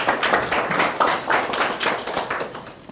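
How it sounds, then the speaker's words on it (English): A conference audience applauds, a loud, dense stretch of many hands clapping close by, holding steady and then tapering slightly toward the end. "Could we please give them a round of applause?"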